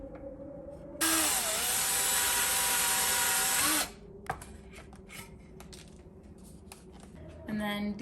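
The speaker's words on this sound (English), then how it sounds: "So I'm just drilling holes into them so that when I go to nail it, it'll be a lot easier" A power drill whirs loudly for about three seconds as it bores into wood, followed by light clatter and a short second burst of drilling.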